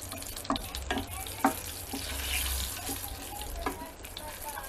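Small chili peppers frying golden in a pan for homemade taco salsa: a steady hiss of oil with sharp utensil clicks and scrapes as they are stirred, close by.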